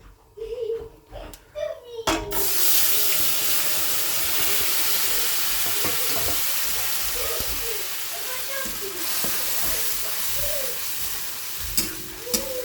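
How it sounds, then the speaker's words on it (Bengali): A paste of tomato, ginger, chilli and onion hits hot oil tempered with cumin and nigella, bursting into a loud, sustained hiss and sizzle after a few clinks; a voice talks over the frying and light stirring continues. "গরম তেলের মধ্যে সাদা জিরে কালো জিরে ফোড়ন দিয়ে দিলাম আর দেব এই টমেটো আদা লঙ্কা পেঁয়াজের এই পেস্টটা দিয়ে একটু কষাবো"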